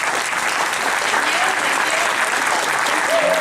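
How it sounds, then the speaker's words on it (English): A round of applause from an evening meeting audience for a guest speaker, a thick, continuous wash of clapping that stays full and even from start to finish. "let's give Gale a round of applause"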